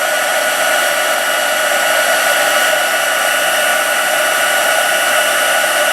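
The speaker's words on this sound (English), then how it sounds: "Whenever you're using the heat tool too, you want to be really careful because it does get extremely hot." Steady, loud blowing whir of a heat tool pushing hot air to melt embossing powder on a handmade card, continuous and unbroken for the whole stretch with nothing else over it.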